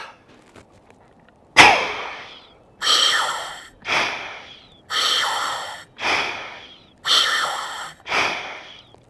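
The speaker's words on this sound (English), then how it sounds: "I'm going to take 3 breaths off the regulator" Breaths drawn through a scuba regulator come as a series of harsh, hissing inhalations, six in a steady rhythm, each a loud rasping rush of air that fades off, close and alone with no talk.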